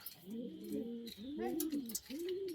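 A prized racing pigeon coos in its loft, giving soft, low, repeated rolling coos in three close phrases, with faint background chirps and a hint of distant voices.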